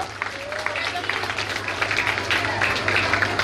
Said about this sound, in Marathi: टाळ्या वाजल्या पाहिजे बाळांनो, जोरदार टाळ्या वाजून आपण स्वागत करूया.